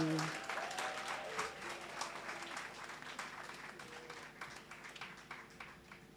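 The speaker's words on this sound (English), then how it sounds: "Please, with a round of applause, welcome Taka Awori." Audience applause at a launch event for a women's network, welcoming a speaker to the stage: a dense, steady wash of clapping from a crowd that holds for several seconds and gradually eases off.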